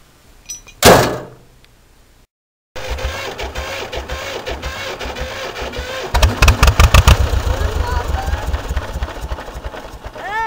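A tractor engine cranks, then catches and settles into a loud, steady running rumble that grows louder partway through with rapid, rhythmic knocking pulses, preceded by a sharp bang near the start.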